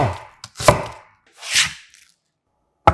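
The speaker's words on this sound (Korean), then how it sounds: "먼저 양파는 4분의 1개 정도를 살짝 굵게 채 썰어" A knife slices a quarter onion into thick strips on a cutting board, giving a handful of crisp, separate cuts with short quiet pauses between them and a final sharp chop at the end.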